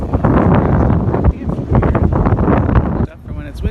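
Strong wind blows over inshore water on a March fishing trip, a loud, gusty rumble buffeting close up in uneven surges before dropping sharply near the end.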